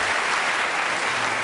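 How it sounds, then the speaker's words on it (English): Studio audience applause on a British comedy panel show, a thick continuous roar of clapping, loud and even throughout the brief burst. "Give him an applause."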